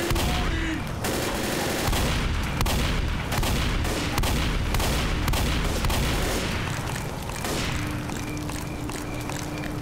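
Shotgun fire in the video game Left 4 Dead: a dense, continuous barrage of loud blasts and rapid gunfire with booming thuds, overlapping without pause throughout.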